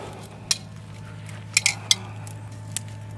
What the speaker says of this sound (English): I'm gonna get back to this and flip my taters here too